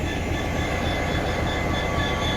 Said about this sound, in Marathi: बीडच्या या रेल्वे स्टेशनवरती रेल्वे हाय स्पीड टेस्टिंगसाठी आज आलेली आहे